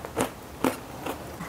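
Crunchy kacang kribo peanut snack bitten close up, a few sharp crisp crunches spaced out over a second and a half, with no talking.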